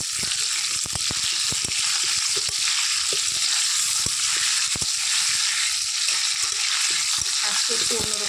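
Chicken pieces sizzle and fry in a pan over a lit clay stove, a steady loud crackle with scattered sharp pops and occasional stirring scrapes, no voices.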